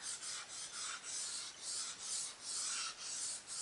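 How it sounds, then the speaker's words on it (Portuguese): Dry pastel chalk rubs back and forth on paper, making a steady, close, raspy scratching with a rhythmic swell on each stroke, quiet and without voices. "Eu esfrego o giz."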